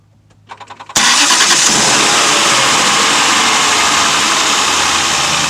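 A 2008 Jaguar XJ8 cranks with a few quick starter pulses, then catches and settles into a loud, steady idle that runs on close up with no talk.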